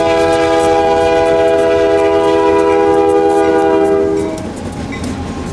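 A US Sugar Corporation freight train rumbles past close by outside a sugar refinery in Clewiston, Florida, with a loud, sustained horn blast, then the horn cuts off and the rolling clatter of wheels continues.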